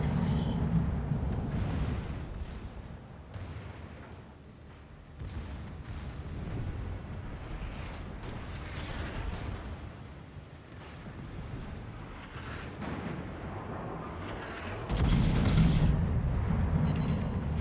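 Battleship gunfire from the World of Warships game, fired by the Ishizuchi battleship: repeated deep, rumbling booms of heavy naval guns with a steady low roar between salvos, heard at moderate loudness without talk.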